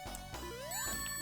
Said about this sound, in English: That's the sound of rewinding.